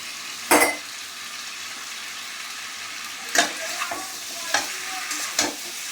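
Fried shrimp tossed into a pot of simmering curry, with a steady low sizzle and a few sharp clinks and scrapes of a spoon against the pot, spaced out over several seconds.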